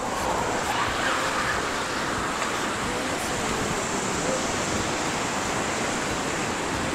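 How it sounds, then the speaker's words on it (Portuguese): Strong wind blows across a microphone on a seaside promenade at Pituba in Salvador, a constant dense rushing roar with no breaks. "Tá ventando bastante, eu espero que o áudio fique bom."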